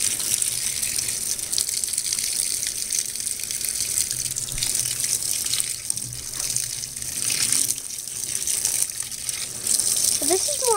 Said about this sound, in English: Water's not coming out of the chest. That's why it mixes hot water with cold water.